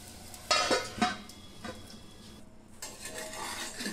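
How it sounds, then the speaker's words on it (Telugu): A metal lid set on a pan while minapa rotte batter cooks over a medium stove flame, two close clanks followed by lighter clinks over a faint steady sizzle. "స్టవ్ మీడియంలో పెట్టి మూత పెట్టుకుంటున్నాను."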